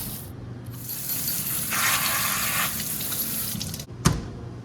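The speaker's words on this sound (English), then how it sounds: "The cool thing about being in an industrial kitchen is that this is how I can wash my potatoes." A tap in an industrial kitchen runs water over potatoes being washed, a steady close rushing splash that swells in the middle and ends with a short knock as the flow stops.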